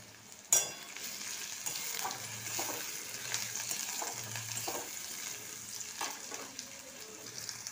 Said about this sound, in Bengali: তেল গরম হতে 1/2 চামচ জিরে, দুটো কাঁচা লঙ্কা ফোড়ন দিয়েছি, আর দিয়েছি একটা বড় পেঁয়াজ।